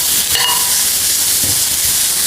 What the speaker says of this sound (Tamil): இப்போ இது எல்லாத்தையும் நல்லா வதக்கிக்கிடுவோம்.